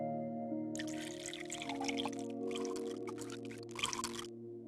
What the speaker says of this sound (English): Add a small amount of distilled water to it.